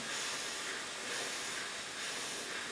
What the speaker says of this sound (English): We're heating up the fingerboard using a lot of water, so we're creating a lot of steam.